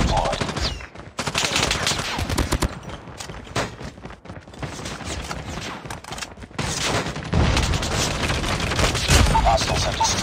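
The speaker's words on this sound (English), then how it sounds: "Sentry gun deployed." A sentry gun firing in Call of Duty Mobile's Crossfire map: sustained, loud automatic gunfire in long dense bursts with brief gaps, then a heavier stretch near the end, amid other battle noise.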